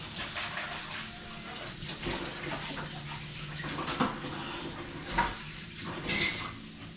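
Water poured and splashing into a pot, in short bursts with clinks of metal cookware between them, close by and fairly quiet.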